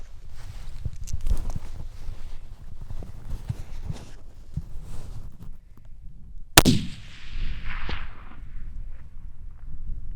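A single sharp rifle shot at a mountain antelope cracks out loudly after quiet outdoor rustling, followed by a brief echoing tail across open ground.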